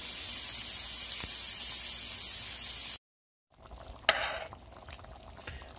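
Hamburger Helper cooking in a pan gives a steady hiss for about three seconds, then cuts out. After a brief silence, a softer, patchier sizzle returns with a sharp clink partway through.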